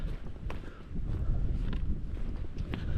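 Low, constant wind rumble buffets the microphone outdoors on chalk cliff tops at Studland, a steady blustery roar with no speech.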